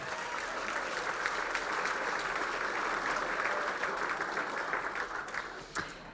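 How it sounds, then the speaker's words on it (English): Sustained applause from an audience at a chamber of commerce annual meeting, a steady dense clatter of clapping hands filling the room from start to finish, easing slightly near the end. "If you could give them a round of applause as our outgoing."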